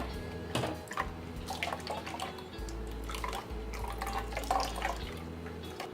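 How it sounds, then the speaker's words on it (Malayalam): Coconut milk from ground coconut is strained through a sieve into a bowl while preparing a jackfruit curry, making close, uneven trickling and dripping with small splashes of liquid throughout. "അപ്പോൾ നെക്സ്റ്റ് ഇതിൽ നമുക്ക് തേങ്ങാപ്പാൽ കളക്ട് ചെയ്തെടുക്കാം."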